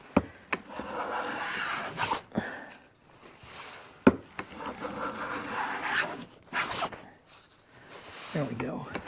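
A hand plane shaving wood into full-width shavings, giving short rasping strokes with sharp clicks between passes, close by, while a person talks quietly over the work.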